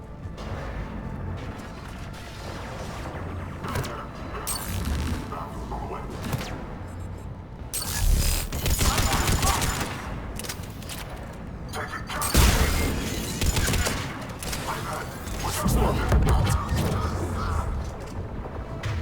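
Heavy cannon fire booms during a battle in Mass Effect 3, with repeated loud blasts and crashing impacts over a constant rumble of combat noise and mechanical clatter.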